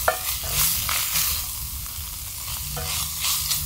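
Saltfish and onions frying and caramelizing in oil outdoors make a loud, continuous sizzle, broken by the scrape of a utensil stirring the pan every half second or so.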